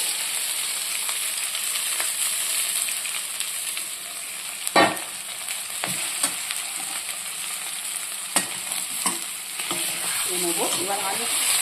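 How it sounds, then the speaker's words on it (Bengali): Fried potatoes being stirred into a pan of spice paste for Bengali aloo dum, with steady sizzling throughout and a few sharp scraping clinks of the spoon against the pan. "এবার আমি এতে ভাজা আলুগুলো অ্যাড করে দেবো।"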